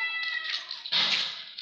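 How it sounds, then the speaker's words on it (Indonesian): Cats fighting at close range, giving a drawn-out yowling caterwaul that breaks into a harsh hiss near the end, with no talk. "Kucingnya berantem tuh."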